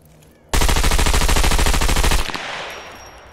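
Sustained automatic gunfire from a weapon in the survival video game Scum, a loud rapid burst lasting close to two seconds that stops abruptly and rings out into a fading tail.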